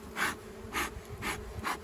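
Honeybees from a swarm lodged in a tree hollow, buzzing in four loud pulsing swells at regular intervals, close up with no voices.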